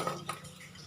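Lumps of jaggery dropped into a pot on the stove and broken up, giving a few faint, close clinks and scrapes of metal against the vessel, with no voices.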